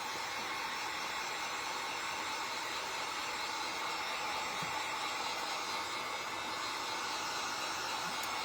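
A hair dryer blows a steady, unbroken whoosh while drying paint on a wall hanging, constant in level from start to finish with no talk over it.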